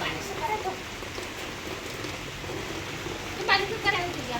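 Steady rain falls outdoors as a broad, even hiss with a few sharper drop impacts near the end, close and continuous, with faint voices in the background.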